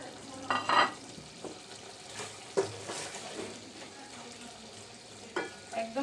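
Loitta shutki (dried Bombay duck fish) frying with chopped tomatoes in a pan, stirred in a few scraping bursts over a low, steady sizzle, close and moderately quiet.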